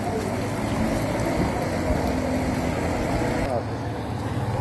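A car pushes through floodwater on a rain-damaged road in Bhimber, Azad Kashmir, giving a steady rushing wash of water and engine noise throughout, with people talking over it nearby.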